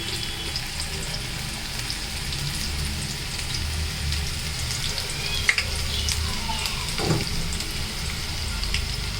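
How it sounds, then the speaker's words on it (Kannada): Onion pakoda deep-fries in a pan of hot oil, a loud, close, continuous sizzling crackle with a couple of brief clinks or stirs partway through. "ಪಕೋಡ ಮಾಡ್ತಾ ಇದ್ದೀನಿ"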